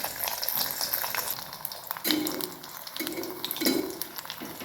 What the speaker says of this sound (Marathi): आपल्याला एकदम बारीक आणि मंद गॅसवरच फ्राय करायचं आहे